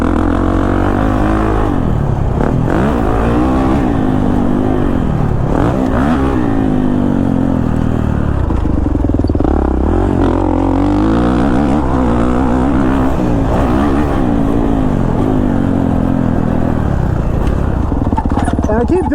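Kawasaki KX450 dirt bike ridden hard, its single-cylinder engine loud and close, repeatedly revving up and dropping back in rising and falling sweeps throughout.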